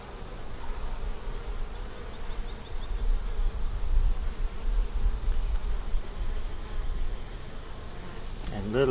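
Honey bees buzz steadily over a laid-up brood frame holding pollen, nectar and hatching young, a dense close drone that holds throughout.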